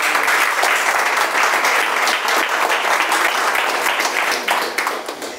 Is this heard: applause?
yes